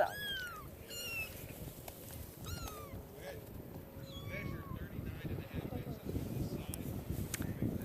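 A white-tailed kitten gives repeated high, rising meows, close by and loud, while people chatter and coo softly in the background.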